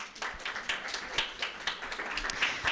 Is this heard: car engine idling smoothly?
no